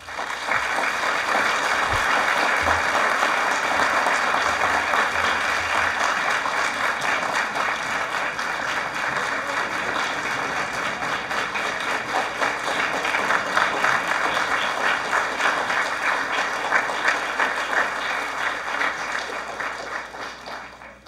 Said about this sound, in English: Could we have another round of applause, please?